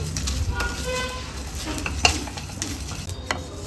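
Pork fries with curry leaves, chilli and mustard seeds in a hot pan for Coorg-style pork curry, a steady close sizzle broken by scraping stirs and a few clinks of utensil on pan.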